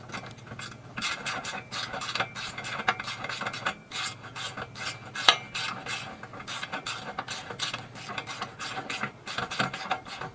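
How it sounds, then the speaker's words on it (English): A loose bolt on a front bumper being fitted to a Polaris Ranger 1000 is tightened with a wrench, giving a long series of close, rhythmic ratcheting and rasping clicks in quick bursts. "This was really loose, so it's going to be a minute to tighten it up."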